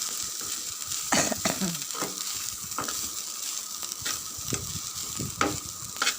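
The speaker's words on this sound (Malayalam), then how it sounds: "എന്നിട്ട് നമുക്ക് ഒന്നും കൂടെ ഒന്ന് നല്ലപോലെ വഴറ്റിയെടുക്കാം." Grated coconut, ginger, shallots and fennel are sautéed in a pan for inji curry, giving a steady close sizzle broken by repeated scraping stirs of a spoon.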